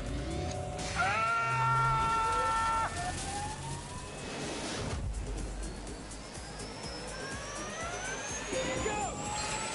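A car engine revs hard at launch, throttle floored against the brake and then released, its note climbing in rising harmonic sweeps, loud and close, with people talking over it.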